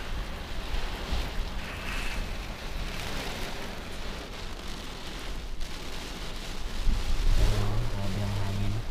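Strong wind blows hard and continuously at a rainy port, a broad roaring rush with gusty swells and no clear talk.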